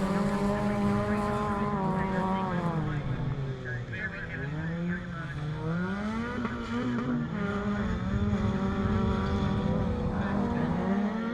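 Swift racing cars brake into a hairpin at round 6 of the 2018 British Rallycross, a loud continuous engine drone whose pitch sweeps down and back up, with faint tyre squeal and commentary voices over it.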